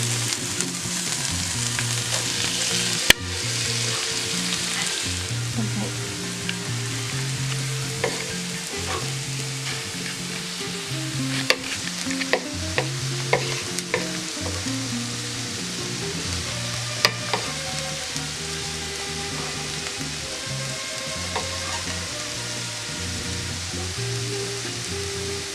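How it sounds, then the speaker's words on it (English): Ingredients for shrimp chile rellenos sauté in a hot pan, a continuous sizzle and crackle with occasional clinks and scrapes as they are moved around, close and steady, with a low hum beneath. "And start sauteing. Move it around."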